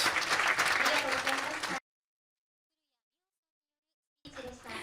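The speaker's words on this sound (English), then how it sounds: "let us give her a huge round of applause" A crowd claps loudly for a couple of seconds, then sudden silence, before applause resumes briefly.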